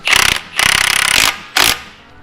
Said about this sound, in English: So I just hit it with a hammer.